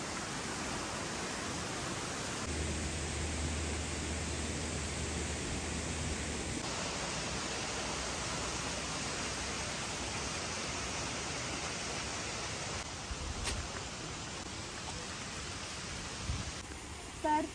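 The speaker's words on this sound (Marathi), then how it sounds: "असं भारी खळखळणारं पाणी" A natural spring-fed stream gurgles at a farm in Goa. Its broad, steady rushing wash holds evenly throughout, with no talking.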